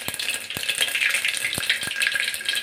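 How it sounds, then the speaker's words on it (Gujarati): Seeds sizzle and crackle steadily in hot oil, a bright frying hiss punctuated by a few sharp clicks of a utensil against the pan. "હવે આ વઘારવાનું છે તો પહેલાં થોડીક રાઈ નાખી દઈ થોડું જીરું નાખી દઈ"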